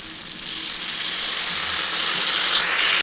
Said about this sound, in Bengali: আমাদের মশলা কষানো হয়ে গেছে ভালো করে।